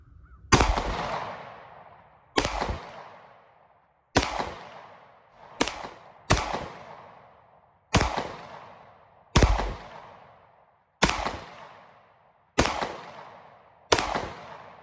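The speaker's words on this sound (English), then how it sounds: "We got our first 15 rounds with the Sig 229 Legion." Sig 229 Legion pistol firing single-action at a range, nine sharp loud shots spaced roughly every one to two seconds, each with a short decaying echo.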